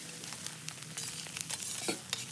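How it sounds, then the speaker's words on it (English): Onions and eggs sizzle in oil on a MoJoe open-fire griddle, a steady close hiss with a few crackles and pops and no voices. "put some oil, cook those onions down, scrambled some eggs, tossed them in, and create a nice onion egg scramble"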